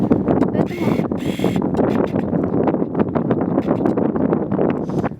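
Wind buffets hard on the shore of a salty lake in the Kazakh desert, a loud continuous rumble with gusts, while someone talks over it throughout.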